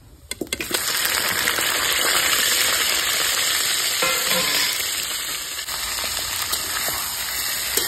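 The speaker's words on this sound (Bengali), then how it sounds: "বন্ধুরা, এখানে ভালো করে চিকেনটাকে আমাকে ভালো করে ভেজে নিতে হবে।" Chicken frying in white oil with whole cumin for an Afghani chicken karahi. After a few clattering knocks, a loud, continuous sizzle starts within the first second and holds steady, with occasional stirring scrapes and no talking.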